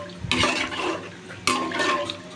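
Water poured from a glass into a pot of rice for veg biryani, two separate splashing pours that each start sharply and trail off into gurgling, close by with no voices.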